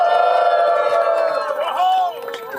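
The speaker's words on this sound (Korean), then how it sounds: "큰 박수로 환영해 주세요" A protest crowd cheers and shouts in welcome as a young speaker is called forward, loud sustained voices in a near continuous roar that tapers off near the end.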